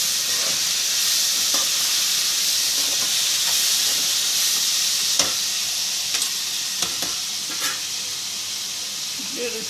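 A mango mixture is stirred in a pan over steady broadband hissing and sizzling, with occasional soft scrapes and taps of the spoon and no talking.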